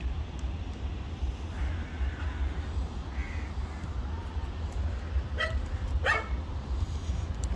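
Several dogs bark at a dog temple in Arambol, Goa, with a few sharp, near barks late on over a steady outdoor background hum and distant crows.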